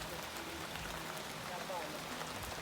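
Rain falls steadily outdoors as a dense, even hiss of drops throughout, with faint voices mixed underneath.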